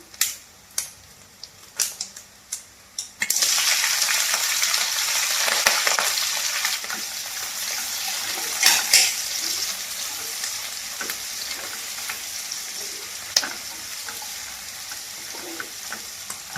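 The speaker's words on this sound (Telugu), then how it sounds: "ఉల్లిపాయ ముక్కలు పచ్చిమిరపకాయ ముక్కలు కొంచెం కలర్ వచ్చిన దాకా వేయించుకుందామండి" Onion and green chilli pieces fry in hot oil for an Andhra-style dry fish tomato curry, a steady loud sizzle starting after a few sharp clicks, with scraping stirs and occasional spatula taps in the pan.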